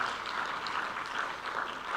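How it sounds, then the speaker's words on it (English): Audience applause at the Kofi Annan Peace & Security Forum 2024, a steady wash of clapping from a large room of participants that holds evenly throughout, fairly distant and with no clear voices. "applause"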